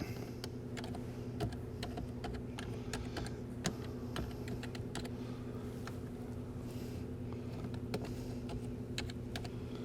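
Steady clicking of fingers typing on a computer keyboard, quick irregular keystrokes over a low hum, no one speaking.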